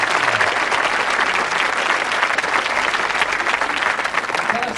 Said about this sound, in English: A round of applause for Greg.